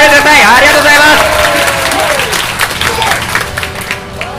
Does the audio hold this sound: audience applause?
yes